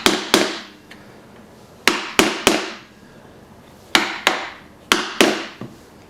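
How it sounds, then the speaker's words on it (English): A narrow chisel chops concealed dovetail sockets in wood: sharp, close, loud strikes landing in quick clusters of two or three, about a dozen blows with short ringing pauses between the groups. "so use a narrow chisel"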